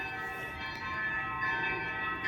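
Church bells ring continuously, a steady sustained peal with layered ringing tones heard outdoors in a garden, fairly loud and unbroken throughout.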